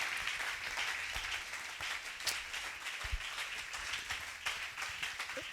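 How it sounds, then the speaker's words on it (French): A church congregation applauding, a steady wash of many hands clapping at a moderate distance, with a few sharper claps and some voices mixed into the crowd noise. "Acclamons Jésus"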